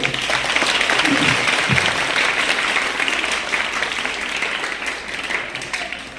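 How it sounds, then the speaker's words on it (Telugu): Students clap together for the headmistress in a school gathering, a dense, steady round of applause running throughout and slowly easing off, with a few brief voices rising early on. "అందరూ గట్టిగా క్లాప్స్ కొడదాం"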